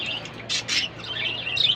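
Small sparrows at a bird farm chirp and squawk with bright, rapid calls. The chatter overlaps continuously, rising into louder bursts.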